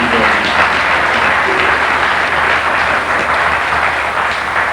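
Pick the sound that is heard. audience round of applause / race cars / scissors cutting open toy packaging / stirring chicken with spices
audience round of applause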